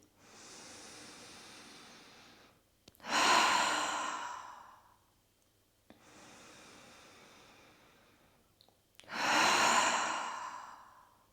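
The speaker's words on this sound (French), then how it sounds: "On va venir inspirer profondément par le nez et tout relâcher par la bouche." Deep breaths during a calming yoga session: two slow cycles, each a soft, airy inhale through the nose followed by a louder, gusty exhale released through the mouth, close and steady with no talking.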